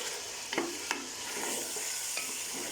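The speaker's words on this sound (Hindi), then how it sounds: "गोश्त को मैं इस तरह भून के इसमें मैं बाकी मसाले डालती हूँ" Beef pieces fry in ghee in a pot for nihari, a soft constant sizzle with a few sharp scraping stirs of a spoon partway through, fairly quiet and with no talking.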